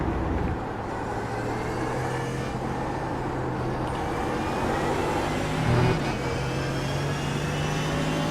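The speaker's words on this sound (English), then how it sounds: "so like loud car noises or droning car noises like these set it off quite badly" Droning race car engine in the iRacing sim, a steady sustained hum with constant engine harmonics running throughout, a brief rise near the middle, loud and close with no talk.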